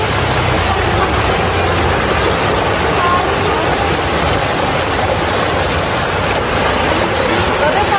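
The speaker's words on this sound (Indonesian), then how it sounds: "jadi airnya agak deras nih sahabat nih" A swift river running high in the rainy season rushes steadily, a loud continuous broadband roar of churning water close by, with no break.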